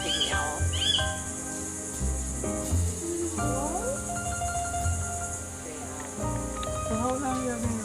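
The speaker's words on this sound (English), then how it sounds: "Pygmy owl." A pygmy owl calls at a raptor centre in Belize, short repeated whistled notes heard among steady insect and cricket buzz, other bird chirps and people talking nearby.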